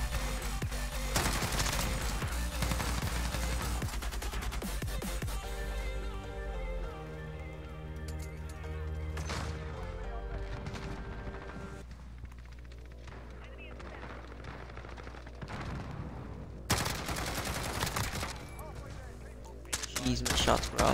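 Repeated gunfire from a Call of Duty: Modern Warfare match, bursts of rapid shots and booming impacts recurring across the stretch, loud and dense over steady game noise, with a person talking at times.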